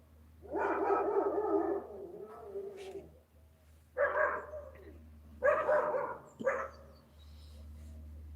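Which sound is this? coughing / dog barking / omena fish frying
dog barking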